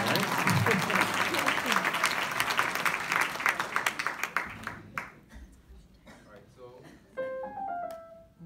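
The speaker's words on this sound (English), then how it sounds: "Let's give a round of applause to our composer here too." Applause from a live concert audience at the Embassy of Singapore honors the composer, loud and dense at first before thinning into scattered claps that fade out while soft musical tones come in.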